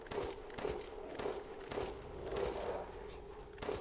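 Pistol gunfire in the video game Resident Evil Village: a quick run of repeated shots in a steady rhythm over a continuous, dense game soundscape.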